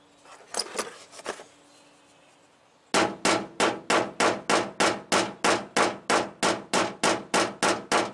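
A slide hammer clamped to vise grips yanks on welded studs to pull a dent from a car body panel, giving a steady run of about eighteen sharp metallic clangs at an even rhythm after a few quieter knocks and a pause.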